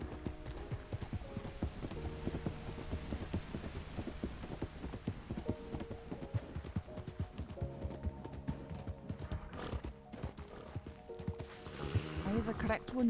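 Horse hooves clip-clop steadily through the whole stretch in Red Dead Redemption 2 (RedM), a continuous rhythmic walking beat joined by creaking, ratcheting tack and game ambience, with a voice speaking faintly now and then.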